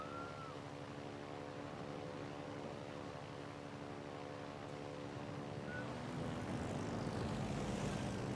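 A propeller-driven fighter launches from a ship in the naval battle game World of Warships, giving a faint, steady droning engine hum that holds throughout.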